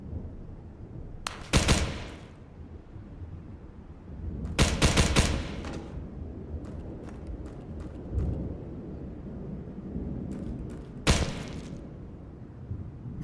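Bursts of gunfire from pre-firing corners in the VR shooter Tactical Assault VR: a few loud rapid volleys at intervals, with a couple of fainter sharp shots between them over a low background rumble.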